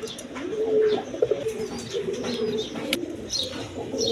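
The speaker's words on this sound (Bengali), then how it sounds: "এক পেয়ার কবুতর আছে আপনার রাজগোল্লা কবুতর" Rajgolla pigeons coo softly and repeatedly close by, a steady low warbling with a few light chirps mixed in.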